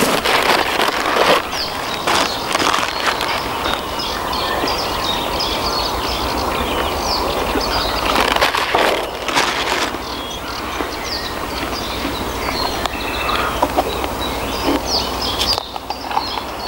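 A dense chorus of many birds calling and chattering continuously outdoors at Lake Berzyńskie near Wolsztyn, Poland, with scattered louder bursts over a constant rushing background.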